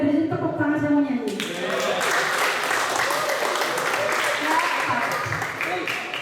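Audience clapping hands at a gathering in Wonosobo, a sustained, even round of applause from a crowd following a short spoken request at the start.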